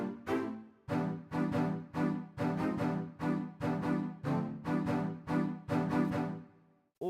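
Chinese violin-style lead in a grime and UK garage beat plays minor seventh chords as a run of short plucked, bright stabs in a choppy syncopated rhythm, close and alone without talk.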